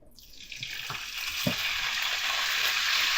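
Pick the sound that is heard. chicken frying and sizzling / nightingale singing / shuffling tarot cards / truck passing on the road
chicken frying and sizzling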